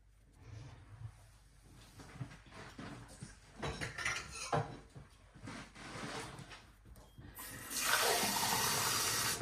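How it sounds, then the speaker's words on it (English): Cold water splashes and pours intermittently over an organic coir mini briquette, with scattered handling clatter before a steady, louder stream of water near the end. "Just going to pour some cold water over it."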